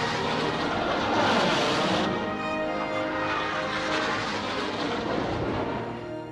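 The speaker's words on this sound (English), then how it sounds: "Albert M. Boyd of the U.S. Army Air Force raised the record by 8 miles per hour in a modified Lockheed shooting star." A modified Lockheed Shooting Star jet aircraft roars steadily throughout, a broad, dense jet rumble with a tonal hum that shifts slightly in character partway through, sustained and loud with no talk.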